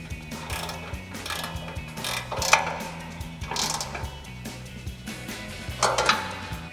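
A 14mm ratchet wrench tightens a bolt on a bumper light bracket of a RAM 2500 rear bumper, giving repeated close, crisp ratcheting clicks in short uneven strokes.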